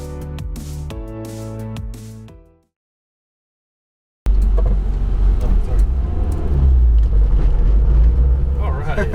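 Stripped, caged Honda Civic EG6 street race car with a B18C engine, heard after a brief silence as a loud, close, rumbling engine drone that builds and holds steady.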